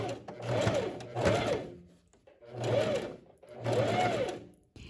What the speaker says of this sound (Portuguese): o vestido na máquina e vou iniciar o acabamento da barra